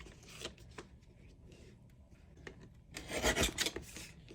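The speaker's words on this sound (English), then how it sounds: "I'm going to take my personal trimmer and I'm going to stack these two pictures" A personal paper trimmer slices through two stacked photos, giving a dry, raspy cutting stroke that builds near the end, close and fairly quiet, with softer rubbing and handling noises before it and no talk.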